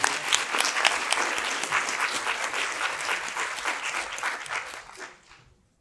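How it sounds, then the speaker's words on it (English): An audience claps steadily for several seconds, a dense patter of applause that fades out toward the end. "So we'll give her a round of applause."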